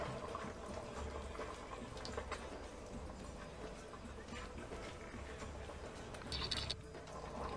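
Mutton kurma with coconut and a ground almond, peanut and cashew paste simmers in a pot, giving a faint, continuous bubbling and burbling with low kitchen background noise throughout.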